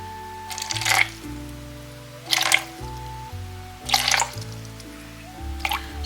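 Water trickles into an intermediate pot while being weighed out for a ceramic glaze, arriving in four short splashy bursts separated by pauses, with low tonal hum underneath.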